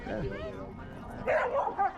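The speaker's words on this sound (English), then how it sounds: "Hi, Frenchie. You having fun, good boy?" A French Bulldog at a dog park gives short yips and whimpering barks close by, mixed with a person talking to him.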